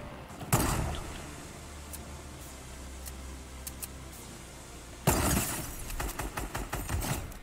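Gunfire in a Fortnite arena match: two sharp bursts of shots with scattered single cracks between them, fairly close and alone.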